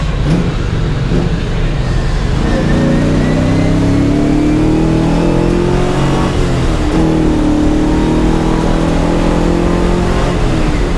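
A Nissan S13 with a swapped LS1 V8 pulls hard up a bridge, its engine droning loud and steady from inside the cabin as the revs climb in long rising sweeps, with a brief shift dip midway.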